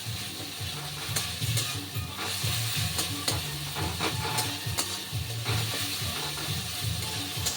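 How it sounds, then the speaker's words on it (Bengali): A metal spatula stirs and mashes softened salted tomatoes in a pan for sama rice khichdi, with repeated scraping strokes over a steady close sizzle and frying hiss. "দেখুন সমস্ত টমেটোগুলো কিন্তু খুন্তি দিয়ে এভাবে একদম গলিয়ে দিয়েছি।"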